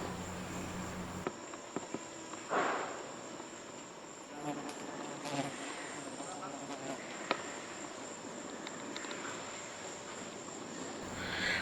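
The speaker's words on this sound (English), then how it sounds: "It was clouds of tiny insects hovering all around him. They seemed to be a species of very tiny mosquito." Clouds of very tiny mosquitoes hover around an animal at a forest camp in Suriname, making a close, continuous high buzzing and whining that rises and falls over the whole stretch.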